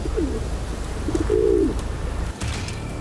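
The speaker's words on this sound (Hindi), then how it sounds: "ये तो कबूतर जैसे किसी पक्षी की आवाज लग रही थी" A pigeon-like bird coos in the Himalayas, two short soft calls over steady low background rumble, moderately near but not loud.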